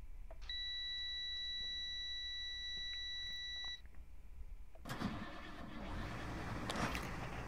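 Electronic warning chime of a 1999 AmTran International bus in Rigs of Rods sounds as a steady tone for a few seconds, followed by the engine starting with a broad rising rumble and hiss as it catches and idles.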